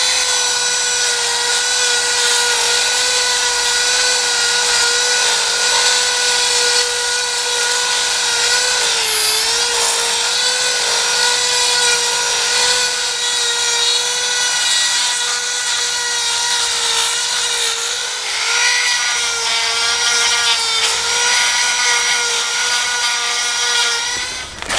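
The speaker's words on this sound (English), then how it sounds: "Now I'm going to do this with a Dremel because that's quite handy." A Dremel rotary tool cleaning out holes in new plates on a Massey Ferguson MF35 tractor gives a continuous high-pitched whine, close and loud, with slight pitch wobbles as it bears down.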